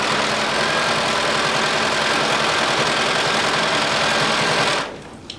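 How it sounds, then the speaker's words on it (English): A sewing machine stitching the side seams of a handmade top with leather accents, running in a steady, continuous loud whir for nearly five seconds before stopping abruptly, followed by a faint click. "we're going to sew using a 5/8 of an inch seam allowance all the way up the sides"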